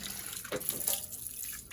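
Cold water runs from a tap with a soft continuous splash and a few louder gushes, quiet and close, with no voices.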